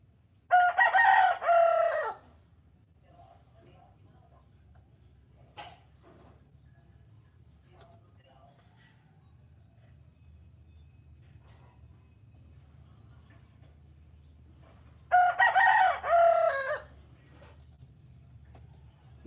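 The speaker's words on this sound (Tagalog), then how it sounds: "Mas malakas pa yung tilaok ng manok." A rooster crows twice, loud and close, one long crow near the start and another about fifteen seconds later, with faint low background hum in between and no talk.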